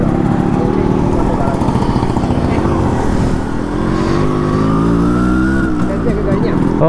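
Engine of a 1991 Yamaha RX100 two-stroke motorcycle on a test ride, a loud, close, continuous buzzing drone that rises and falls in pitch as it revs, with people talking over it.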